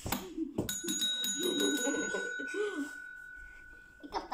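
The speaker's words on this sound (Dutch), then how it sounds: "Heb je de bel niet gedaan?" A bicycle-style bell rings at home, several bright metallic dings in quick succession followed by a sustained ring, with people talking and laughing around it.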